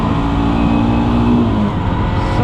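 A motorcycle engine drones steadily and loud on a mountain road climb, a constant low rumble with a slight pitch drift and no voices.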